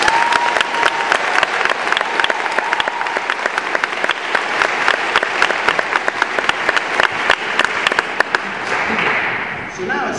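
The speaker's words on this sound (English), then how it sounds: "Please give another round of applause to the 2015 graduates of White Lake High School." Sustained applause from a large audience at the 2015 White Lake High School commencement, dense steady clapping throughout that begins to thin out near the end.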